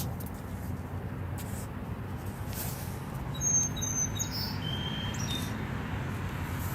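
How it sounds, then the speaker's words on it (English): Small birds chirp outdoors, a few faint, high tweets scattered over a low, steady background hum. "So the birds are out."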